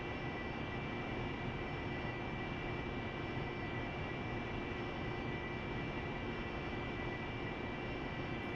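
A Harrier jet engine runs while taxiing in the DCS flight simulator, a steady, unbroken whine and roar that holds at the same level throughout with a few faint tonal hums.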